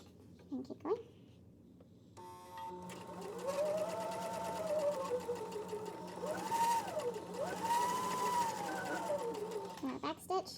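A sewing machine runs in a long continuous stretch while stitching a square pillow, its motor whirring near and steady, with an instructor's voice talking over it at the start and end.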